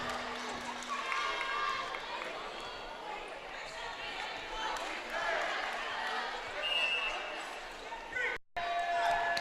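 Fans cheer and murmur at a college volleyball match between UTPA and New Mexico State in a gym, a continuous, fairly loud wash of crowd noise with squeaks and thuds from play, broken by a brief dropout near the end.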